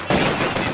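A short, loud, rapid burst of enemy machine gun fire, dense and close, lasting under a second.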